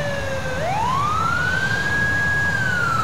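A loud, close fire truck siren in GTA IV winding up from a low pitch into a sustained high wail over a rumbling engine.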